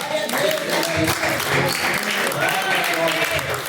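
Applause fills a live IPDA church service, a dense, steady clapping from a congregation that holds at full level throughout, with voices and some musical tones running underneath.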